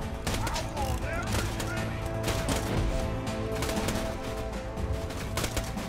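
Gunfire in the video game Borderlands 2: dense, continuous bursts of automatic weapon fire and rattling shots layered with mechanical clatter, loud and sustained with no pauses.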